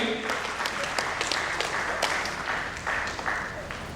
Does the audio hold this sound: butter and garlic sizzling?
no